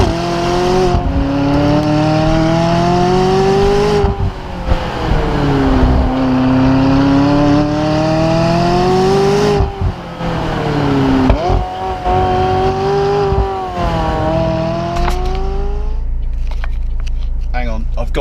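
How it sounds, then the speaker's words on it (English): A McLaren 570GT engine in track mode at full throttle, a loud sustained engine roar rising and falling in pitch through several gear shifts and dying away near the end. "It also sounds pretty juicy if you put the engine into its track mode and floor it"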